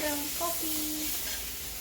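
Chicken frying in a pan gives a steady, broad sizzling hiss, fairly quiet and close, with a few brief voiced tones near the start.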